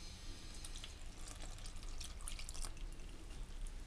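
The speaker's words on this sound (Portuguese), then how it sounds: "Nós vamos acrescentar mais uma xícara de leite." A cup of milk poured into bread dough for a sweet milk loaf, heard as a soft, continuous trickle of liquid that stays quiet and even throughout, with no talk.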